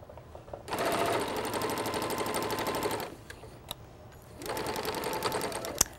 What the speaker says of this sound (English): And you're gonna sew around the entire piece.